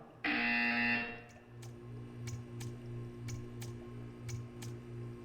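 A loud, harsh electronic buzzer from the video game Portal 2 blares for about a second, then gives way to a low droning hum with soft, regular ticking clicks.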